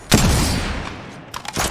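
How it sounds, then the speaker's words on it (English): Gunfire in the mobile battle-royale game Apex Legends Mobile: a loud burst of shots at the start, then a quick cluster of further shots near the end. "Shots fired at me!"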